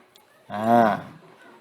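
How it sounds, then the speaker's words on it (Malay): A single cow moo swells up near the middle of the clip, a close, tonal lowing call lasting about half a second over a quiet background. "Sapi betina."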